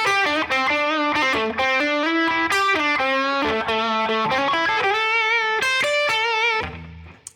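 A distorted electric guitar rips through a fast blues lick with quick note runs, bends and held sustained notes, loud and up close with no other instruments.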